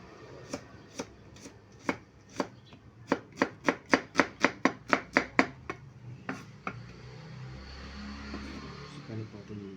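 A knife chops onion on a board in a run of about seventeen sharp, close taps, speeding up into a quick even rhythm before stopping, followed by quieter handling noise.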